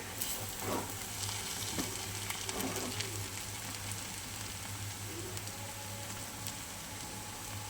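Chow mein with mixed vegetables fries in a pan, a soft steady sizzle and crackle with occasional stirring scrapes, fairly quiet throughout.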